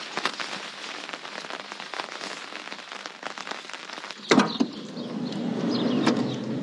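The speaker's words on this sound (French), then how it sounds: "Il pleut." Steady patter of rain falling on a surface, with a sharper knock partway through and the rain continuing afterward.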